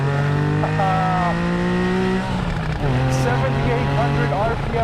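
A naturally aspirated 3.8-liter Porsche 911 Carrera S with 75,386 miles howls loudly as it revs, its pitch climbing and dropping through gear changes, close and sustained throughout.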